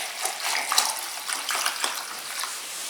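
Clear acid-removing liquid pours into a jug in a soft, splashy trickle with a few brief surges, close and fairly quiet, with no voices over it.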